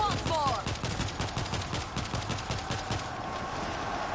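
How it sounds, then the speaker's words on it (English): Rapid automatic gunfire from shooting zombies in World War Z, New York level, a steady burst of fast repeated shots running continuously, loud and dense in the foreground. "Start shooting as soon as you can."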